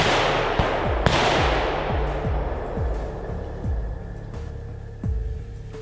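Gunshots ring out during a driven wild boar hunt: about half a dozen sharp, loud cracks at irregular intervals, each trailing off in a rolling echo, over steady outdoor wind noise.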